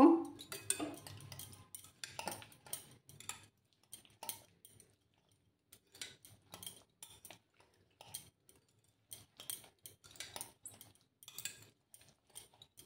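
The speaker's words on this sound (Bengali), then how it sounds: "এগুলোকে এখন ভালো করে একটু মিক্স করে নেব।" Ingredients for egg paratha are mixed in a bowl, giving soft, intermittent clinks and scrapes of a utensil against the bowl in irregular bursts, fairly quiet and close, with no talking.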